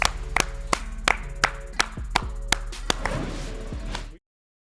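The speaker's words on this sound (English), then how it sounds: "Clap it up." A handful of sharp, evenly spaced hand claps ring out close by, about a dozen in a row, thickening into brief applause before cutting off abruptly.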